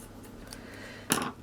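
Scissors snip once through stocking material, a short crisp cut near the end against a quiet room with a faint background hiss.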